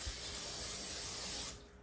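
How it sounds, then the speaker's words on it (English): Cooking spray hisses onto a 9x13 baking pan in one steady burst of about a second and a half, close and alone, before cutting off. "we wanna start by spraying our 9x13 pan."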